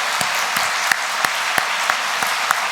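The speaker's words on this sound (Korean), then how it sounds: "우리 박수로 격려 한번 하십시다." A church congregation at a Sunday afternoon service applauds the kitchen volunteers, with a brief steady burst of clapping and a few sharp individual claps standing out.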